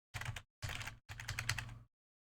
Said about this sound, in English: Can you hear my keyboard typing?